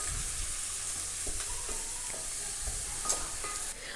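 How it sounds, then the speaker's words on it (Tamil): Onions frying in hot oil with dried chillies and curry leaves for a Chettinad chicken gravy, giving a steady soft sizzle with occasional stirring scrapes throughout. "ஒரு 1 மினிட் ஆனியன் வந்துட்டு எண்ணெயில் நல்லா ஃப்ரை பண்ணி எடுத்துக்கோங்க"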